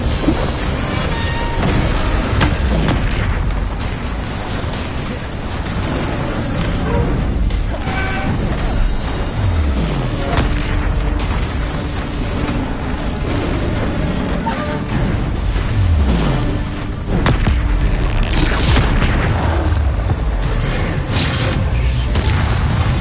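Bombarda spell explosions in Hogwarts Legacy boom loudly and repeatedly, with deep rumbling blasts and crashing debris layered over a constant, dense battle din.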